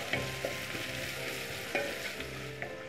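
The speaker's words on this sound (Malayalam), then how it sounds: "സാമ്പാറിന് കടുക് വറുക്കുമ്പോൾ നന്നായിട്ട് ഉള്ളി ചേർത്ത് വേണം കടുക് വറുത്തെടുക്കാൻ" Onions and mustard seeds frying in oil for Kerala sambar, a steady close sizzle with scattered sharp pops and stirring scrapes throughout, no voices.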